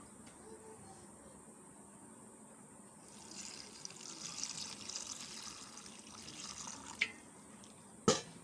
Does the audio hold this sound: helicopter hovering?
no